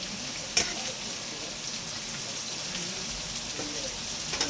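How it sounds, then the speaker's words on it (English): Potatoes and vegetables simmer in a covered pan, giving off a steady, soft bubbling hiss that runs unbroken throughout, with a brief clink near the start. "I'm going to simmer that now till the spuds are done"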